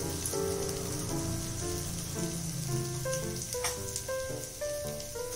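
Chana dal and ginger sizzle in hot oil with a steady, bright crackle, while a melodic tune plays over it throughout.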